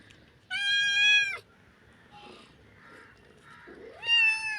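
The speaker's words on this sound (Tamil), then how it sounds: "என் பூனைக்குட்டிக்கு கீரை வேணுமா" A kitten meows twice, high-pitched and drawn out, with a short gap between calls and soft background sounds in between.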